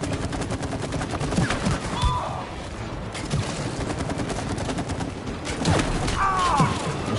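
Rapid gunfire from the video game It Takes Two, a dense, sustained barrage of shots at close range with scattered game effects and a few chirping tones over the top.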